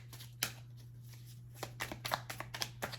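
Index cards being shuffled by hand: a sharp riffle, a short pause, then a quick run of close, crisp flicks and snaps over a faint steady hum.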